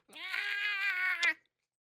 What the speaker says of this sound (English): And then the cat just goes.